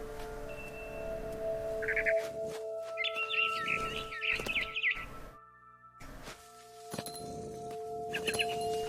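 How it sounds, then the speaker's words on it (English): A barn swallow in the game What Remains of Edith Finch chirps in short twittering bursts near a window, over a low sustained musical drone with a few soft thumps. "Then I heard chirping outside my window. It was a barn swallow going back to her nest."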